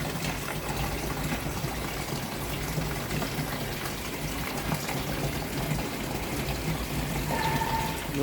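Water pours steadily into a garden fish pond to top it up, a constant close gush and trickle that runs without a break.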